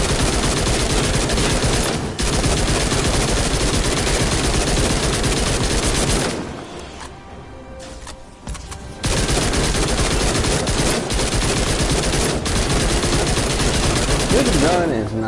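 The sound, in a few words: gunfire from a gun in the video game Fortnite Save the World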